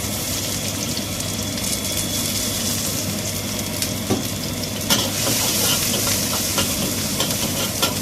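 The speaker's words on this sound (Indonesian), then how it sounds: "Wajannya sudah panas, bawang putihnya mau tak cemplungkan." Garlic frying in a hot wok gives a steady, loud sizzle that runs the whole time, with stirring scrapes and a few sharper clatters from the pan. No one speaks.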